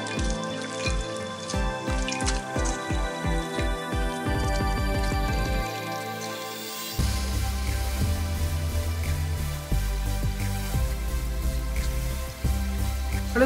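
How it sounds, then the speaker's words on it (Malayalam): Ground fennel seed paste mixed with water is squeezed by hand through a strainer, giving a steady series of wet drips and liquid splashes with background music and no talk. "ഇനി ഇത് നമുക്ക് നല്ലപോലെ ഒന്ന് പിഴിഞ്ഞെടുക്കാം"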